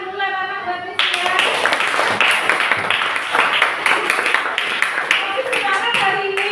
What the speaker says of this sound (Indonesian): Beri tepuk tangan dulu anak-anak buat Rizky ya.